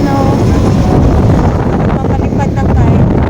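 Strong wind roars loudly and continuously into the microphone while biking with family around Nanliao, Taiwan, a heavy low rumble buffeting the whole moment.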